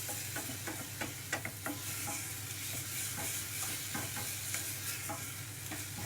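Minced lamb fries in a pan with a steady, close sizzle, broken by scraping and tapping as a utensil stirs it. No voices are heard.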